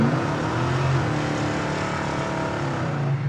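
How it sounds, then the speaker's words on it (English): A 1969 Pontiac GTO accelerating hard and laying rubber, a loud, dense engine roar with a rising then steady pitch lasting throughout, no voices. "Lay some rubber, got some tire smoke."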